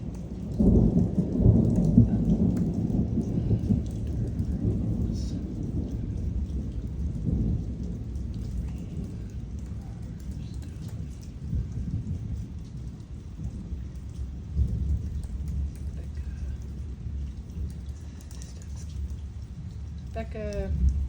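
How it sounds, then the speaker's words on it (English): A raging thunderstorm fills the air with steady rain hiss and repeated low rolling thunder that swells and fades throughout. "Storm is raging."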